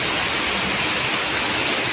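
A sudden evening downpour roars steadily and loudly, a dense unbroken wash of heavy rain with no talking.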